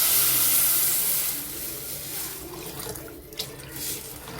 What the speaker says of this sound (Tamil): இப்போ தண்ணி ஆட் பண்ணுவோம் ஒரு லிட்டர் தண்ணி ஆட் பண்ணுறேன்